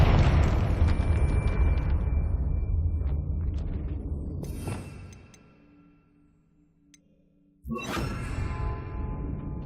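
Confringo explosive spell blast in the Hogwarts Legacy video game, a loud booming burst with crackling debris that fades out, followed after a near-silent pause by another sharp blast.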